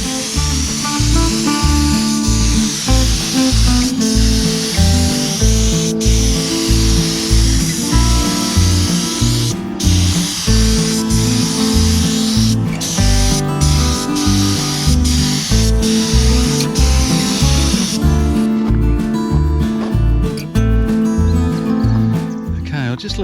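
A spray gun hisses steadily as two-component isocyanate primer goes onto a rusty UHI UME 12 Chinese mini excavator, the continuous hiss sitting close and loud under steady background music.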